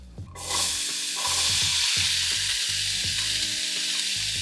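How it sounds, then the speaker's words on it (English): Apples drop into hot butter in a pan and burst into a loud, steady sizzle, with faint stirring clatter underneath. "I love the sound of that sizzle"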